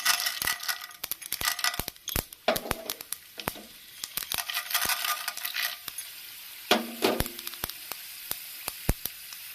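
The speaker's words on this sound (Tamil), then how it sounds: "இப்போ பருப்பு உளுத்தம் பருப்பு சேர்த்துக்கலாம்" Urad dal and mustard seeds fry in hot oil in a pan, giving loud, close sputtering pops and crackles with bursts of stirring. No one speaks.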